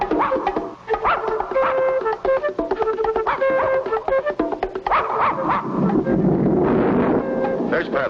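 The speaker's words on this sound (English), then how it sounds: "The dog's right behind us." A cartoon dog barks in bursts while chasing, loud and close, mixed with wind and other noise throughout.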